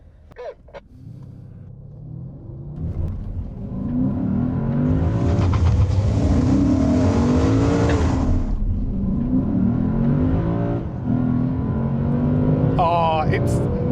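A Lexus RC F and a Mercedes-AMG C63 S launch in a street-start drag race, engines rising into a loud, sustained roar of hard acceleration with a commentator speaking over the noise.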